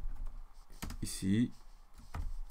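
Computer keyboard typing while a website button's text is edited, a few quick clicks and keystrokes close by, with someone speaking French over and between them.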